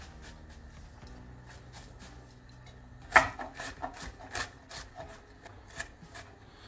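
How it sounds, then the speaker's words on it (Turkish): A knife cuts an onion in half on a wooden board. One sharp, close cut is followed by a series of quieter rasping strokes, with no speech. "Soğanı ortadan ikiye kes."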